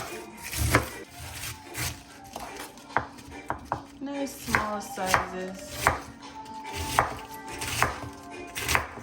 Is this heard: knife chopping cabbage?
yes